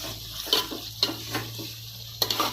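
Garlic paste sautéing in a pan for prawn biryani, a short soft sizzle with a few sharp clinks and scrapes of a spoon against the metal.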